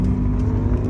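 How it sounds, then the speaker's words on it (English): A lifted car driving along a bumpy dirt road, heard from inside as a continuous heavy low rumble with uneven thumps from the ground, loud and close. "we're going out on a dirt road. Oh, we got a couple of good bumps here"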